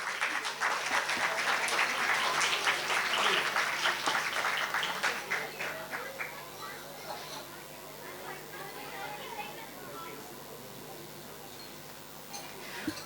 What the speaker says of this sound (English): Can we get them a round of applause, please?